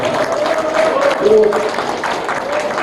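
An audience applauds after a lecture by a lawmaker, a steady wash of clapping from a crowded hall, heard beneath a voice speaking over it.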